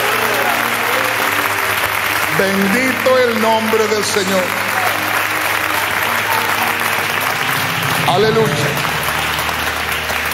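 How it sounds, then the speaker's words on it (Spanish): Church congregation applauding steadily for several seconds during a Spanish-language worship service, with a preacher's amplified voice speaking over the clapping throughout. "Dale un aplauso al Señor con todo tu corazón."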